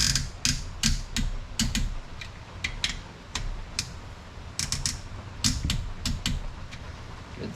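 A click-type torque wrench ratchets on a rebuilt Polaris Ranger 800/700 engine, set to 22 foot-pounds: sharp, close metallic clicks come in quick bursts of several strokes, with brief pauses between them.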